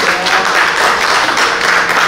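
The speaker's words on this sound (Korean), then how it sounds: "큰 박수로 환영해 주시길 부탁드리겠습니다" A hall audience at a denominational pastors' seminary session claps steadily to welcome a pastor and lecturer to the stage, a dense, even wash of applause lasting about two seconds with no speech.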